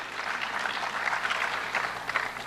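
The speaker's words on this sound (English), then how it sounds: "We could clap for that too." Steady applause from a crowd, an even wash of clapping that holds its level throughout without pauses.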